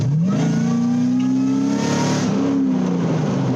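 A Corvette with a modified exhaust pulls hard from close by, its engine note climbing steadily in pitch through a gear, briefly dipping at a shift, then rising again, loud and unbroken with no talking.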